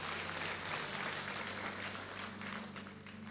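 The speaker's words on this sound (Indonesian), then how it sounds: "Beri tepuk tangan kepada Tuhan Yesus." A church congregation claps for Jesus, a broad, steady roar of applause over a low humming tone, easing slightly toward the end.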